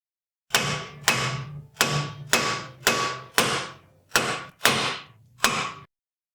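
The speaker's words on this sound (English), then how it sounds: "we need some extension for the hammer. Some hammering extension. We use another hammer." Nine heavy metallic hammer blows on a VW or Audi CV axle, struck through another hammer at a steady, unhurried pace, each ringing briefly before the next; close and loud with no talk.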